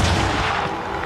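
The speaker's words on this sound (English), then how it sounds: "A cannon, firing small lead balls called grape shot," A single heavy cannon blast firing grape shot, a loud, dense roar that fills the whole clip and slowly fades, with no voices.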